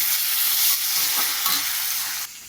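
Ginger, cumin and green chili paste with salt and turmeric sauté in a pan, a loud hissing fry with brisk stirring scrapes, steady for two seconds then dropping off abruptly.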